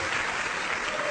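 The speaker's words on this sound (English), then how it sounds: "There's a smattering, let's call it, a smattering of applause" A brief, thin smattering of clapping from an audience for Reverend Al accepting an award, steady and even through the short stretch without swelling or cheers.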